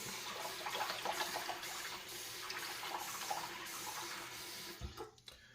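Razor blade rinsed under hot running water from a tap before shaving, a steady close splashing stream that cuts off with a clink near the end.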